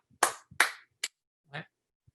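A few sharp hand claps ring out close by, spaced unevenly with short pauses between them, joined by brief vocal sounds in a quiet room.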